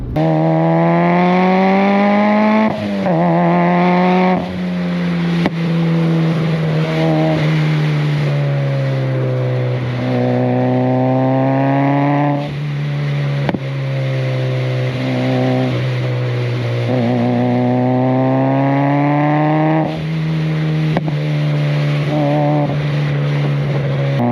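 A Mitsubishi Evo engine drones loudly and close for a long stretch, rising and falling in pitch as it revs and shifts between gears.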